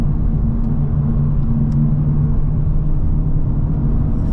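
Honda Civic Type R, 315 horsepower and 310 pound-feet of torque, driving uphill: a steady, fairly loud low engine and road rumble with a faint hum, constant throughout and without talk.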